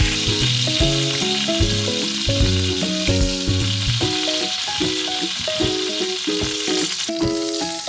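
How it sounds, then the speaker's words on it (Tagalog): Seasoned chicken searing in hot cooking oil in a pan, a steady loud sizzle and crackle throughout, with soft background music underneath. "Heat a pan, then add a cooking oil, then sear all the seasoned chicken until brown."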